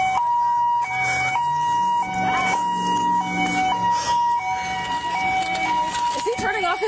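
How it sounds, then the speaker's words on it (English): A police siren wails steadily at the scene of a car crash, its rising and falling tones cycling close and loud throughout, with people talking over it; the siren winds down near the end. "Is he turning off his siren?"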